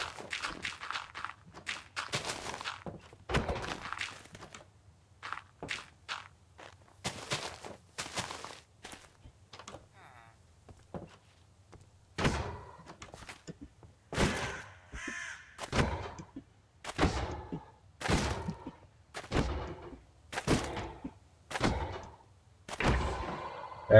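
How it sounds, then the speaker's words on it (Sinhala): Repeated thuds of hits on an iron golem in Minecraft, a dozen or so sharp separate impacts, quiet and evenly spaced, getting denser in the second half. "අයන් ගොලම්ට ගහන්න"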